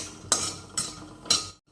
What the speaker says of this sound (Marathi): काजू तुपामध्ये व्यवस्थित भाजून घ्यायचे